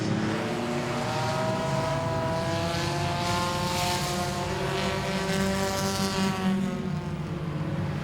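Enduro race cars roar past at Langley Speedway between turns 3 and 4 in heavy traffic, layered engine drones rising and falling in pitch as several cars pass, loud and sustained.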